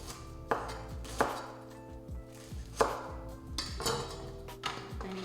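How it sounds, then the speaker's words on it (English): A knife chops Brussels sprouts on a cutting board, about six distinct thuds at an uneven, unhurried pace, each with a short crisp crunch, close up over a faint low hum. "So first I'm gonna cut up my Brussels so that I can toast them up."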